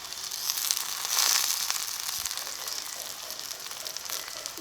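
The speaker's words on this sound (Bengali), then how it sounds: "পেঁয়াজটাকে এখন লাল করে ভেজে নেব" Chopped onion and tomato fry in oil in a pan with a soft, even sizzle and light crackle, fairly quiet and steady throughout.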